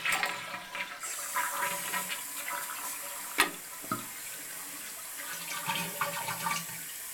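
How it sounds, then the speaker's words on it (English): A 1981 Eljer Emblem toilet flushes, then its tank refills with a steady rushing hiss of water, with a sharp clunk partway through, close and alone. "but here, you can flush it now."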